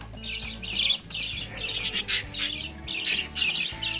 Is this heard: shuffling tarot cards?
no